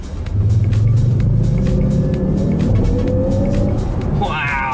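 A Jaguar I-Pace electric car pulling away hard from standstill, a steady rising motor whine over road rumble that climbs in pitch for several seconds, heard from inside the cabin with people talking.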